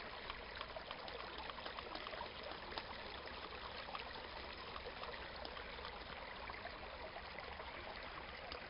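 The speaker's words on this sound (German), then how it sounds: "Ein sauberer kleiner Bach." A small, clean stream on a hiking trail in the high Taunus flows steadily, a constant near trickle and rush of water with no voices.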